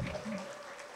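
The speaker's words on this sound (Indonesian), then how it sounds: "Tepuk tangan dulu semuanya." Audience applause at a university yudisium graduation ceremony, a brief steady wash of clapping with a voice speaking over it.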